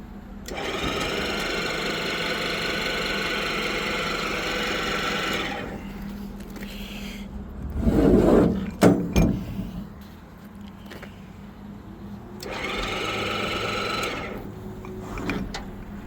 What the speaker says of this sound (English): So, that's how the crane operates.